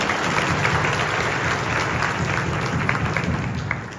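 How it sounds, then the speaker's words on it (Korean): Students at a Korean high school freshman welcoming and appointment ceremony applaud in a large hall, a steady dense wash of many hands clapping at once, sustained and even for several seconds without speech. "네, 박수 부탁드립니다"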